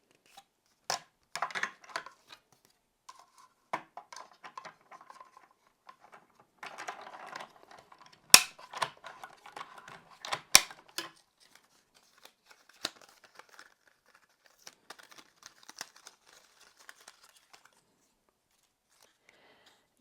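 A handheld Intri-Cut Mini cutting tool slices a branch shape out of cardstock, giving quiet, irregular clicks and short scraping cuts that come in bursts and then thin out toward the end, with no talking.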